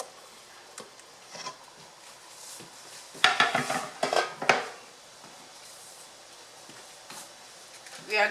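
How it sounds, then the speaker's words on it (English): Aromatics are dropped into a pot of boiling water with a few clattering splashes and knocks of utensils against the pot, amid quieter kitchen noises. "put all these aromatics in the boiling water"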